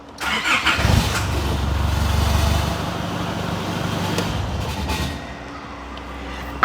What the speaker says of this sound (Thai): พี่แค่เอากุญแจ immobilizer แบบนี้มาวางไว้แล้วก็สตาร์ทรถง ่าย ๆ ได้เลยนะคะ